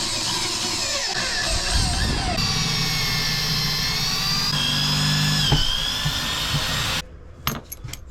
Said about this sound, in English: It came with the T-track, so I thought I'd just route it in because I do have a router table for this job.